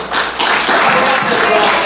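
An audience claps together in a sustained burst of applause that fills the whole moment, dense and fairly loud, with no words spoken over it.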